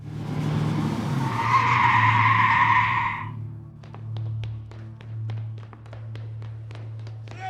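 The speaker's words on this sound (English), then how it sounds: "The quiet was shattered by the screech of tires as a convoy of cars suddenly appeared" Tires screech loudly for about three seconds as a convoy of cars suddenly appears, then idling engines hum low with a series of sharp clicks and taps following.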